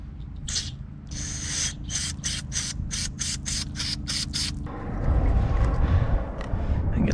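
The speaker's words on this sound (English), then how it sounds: "I'm going to try to break up the ethanol debris with a little bit of carb cleaner" Short bursts of carb cleaner spray into a Volvo Penta 5.7 GSi marine engine that won't start, about ten quick hissing squirts in a row, then a rougher rumbling clatter as spraying stops.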